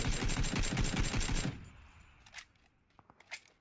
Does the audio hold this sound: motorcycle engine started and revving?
no